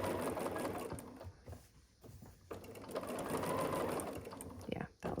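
Sewing machine stitching and back-stitching around the curve of a quilted Christmas stocking, running in short bursts with pauses under and between moments of talk.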